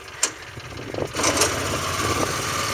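A 2003 John Deere Gator 6X4 utility vehicle with a recently replaced carburetor and coil, its small engine running steadily and close by, with a brief knock near the start and a slight rise in level partway through.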